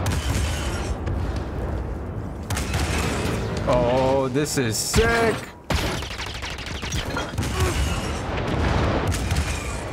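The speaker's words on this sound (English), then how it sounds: "Oh my god, we're controlling the walker." Heavy walker cannons fire in Star Wars Jedi Fallen Order on Kashyyyk, loud repeated booms and blasts layered over dense battle noise and game music, while a player exclaims excitedly.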